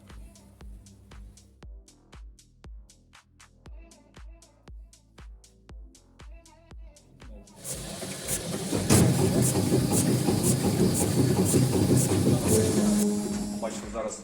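An STvega H550 industrial meat dicer with three motors runs, first a steady rhythmic mechanical thumping at about two beats per second, then a louder dense whirring and grinding roar as the machine speeds up.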